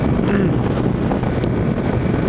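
A Honda Titan Mix 150 motorcycle rides at full throttle on a highway into a headwind, heard as a constant loud roar of wind buffeting the microphone over a low engine drone.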